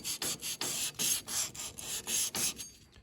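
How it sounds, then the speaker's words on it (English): Emery cloth roughening the knotter brake surface on a New Holland 68 hay baler, heard as about ten rhythmic back-and-forth abrasive rubbing strokes, close and fairly quiet, with no talking. "now we're gonna get some emery cloth and we're gonna roughen that up just a little bit"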